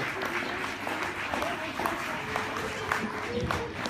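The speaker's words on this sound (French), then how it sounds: "Bertie Soulier, on applaudit bien fort." A French audience at a short-film event claps for a performer, a moderate, continuous patter of applause mixed with crowd murmur and a voice speaking over it.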